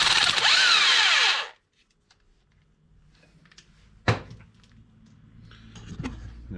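Impact gun backing out a 13mm bolt on a Ford F-150 front end, one loud close burst of whirring and hammering that lasts about a second and a half. A sharp metallic clank and quiet shop handling noises follow.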